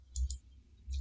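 Two quick mouse clicks near the start and another near the end, crisp and close, on a computer while changing Windows settings for Microsoft Defender Antivirus Service.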